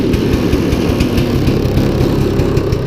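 1976 Ski-Doo 300 snowmobile engine, a barn find just revived, running loud and close with a rapid, buzzy two-stroke idle that pulses steadily and evenly throughout, with no talk over it.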